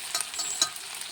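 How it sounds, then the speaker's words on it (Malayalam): Sliced shallots frying in coconut oil after mustard seeds have popped, a continuous bright hiss and sputter with small crackles, close up and without any voices. "വെളിച്ചെണ്ണ ഒഴിച്ച് കടുക് പൊട്ടിച്ചതിന് ശേഷം കുറച്ച് ചുമന്നുള്ളി അരിഞ്ഞ് പൊരിക്കാം."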